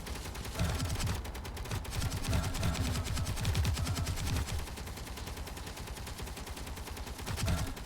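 Rapid, sustained turret gunfire from a modded space-building game, steady bursts of automatic fire running nearly unbroken throughout at a constant, fairly loud level, with no talking.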